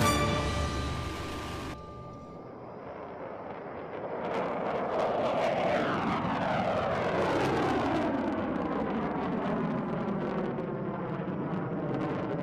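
An F-35 fighter jet flies a low-speed display pedal turn at high angle of attack, its engine roar loud and sustained with a broad rushing whine that rises, sweeps and shifts in pitch as it passes overhead.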